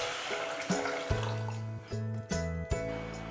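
Water for sugar syrup pours into a bowl in a few short splashing bursts, the pitch rising as the bowl fills, close and clear with no talking.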